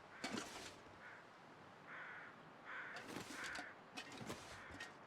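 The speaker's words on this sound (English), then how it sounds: "I can hear crows." Crows caw repeatedly in the survival video game The Long Dark, a series of harsh calls at a moderate distance over faint wind-like ambience, with no talking.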